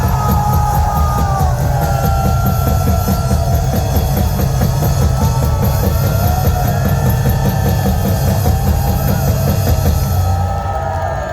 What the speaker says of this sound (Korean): 긴 박수로 맞이하겠습니다